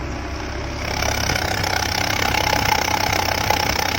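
Maruti 800 car engine running with its silencer modified using an oil funnel, a steady rough idle that swells slightly after the first second, loud and close with no talk.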